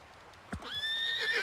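A horse in Red Dead Redemption 2 lets out a clear, rising whinny that holds and wavers for about a second, preceded by a soft hoof thud, close and moderately loud over a quiet background.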